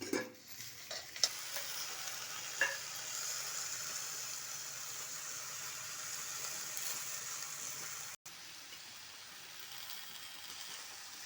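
Sesame seeds and chilies in tempering oil, a steady frying sizzle with a soft, continuous hiss throughout, a few faint clinks near the start, and no voices.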